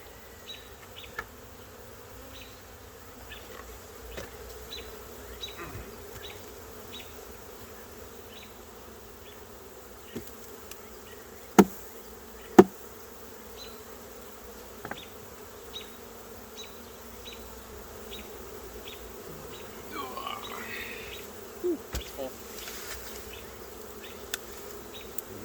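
Honey bees swarm around an opened hive that is being split, giving a continuous, close buzzing drone with individual bees flying past, and a few sharp knocks from the hive boxes.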